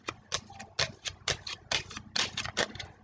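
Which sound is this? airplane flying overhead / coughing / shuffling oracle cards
shuffling oracle cards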